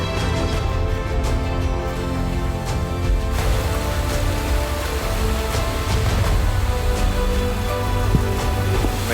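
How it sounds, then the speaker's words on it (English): Heavy rain pours steadily near Tongariro on New Zealand's North Island, a constant dense hiss with scattered sharper drops close by, no voices over it. "Really, really raining."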